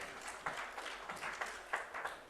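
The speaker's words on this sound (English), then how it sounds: "With a huge round of applause, ladies and gentlemen." Audience applause at a sports conclave panel session in Lucknow, a faint, distant patter of clapping with a few louder bursts, fairly brief and thin.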